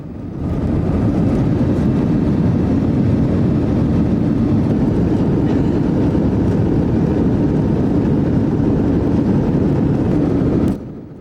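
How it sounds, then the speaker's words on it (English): Aircraft engine roaring steadily through a takeoff run near Austin, a loud, continuous low rumble that holds for about ten seconds before cutting off. "So here we are, takeoff."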